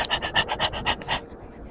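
A dog on a hillside lookout above Pattaya, Thailand pants rapidly and close up, about seven quick rhythmic breaths before falling quiet.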